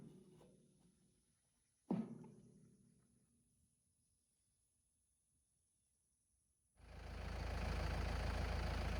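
A tractor runs steadily while a Land Pride RTR2072 rotary tiller is lowered. There is a quiet idle at first with a sharp clank near two seconds, then the engine swells into a loud, broadband roar for the last couple of seconds.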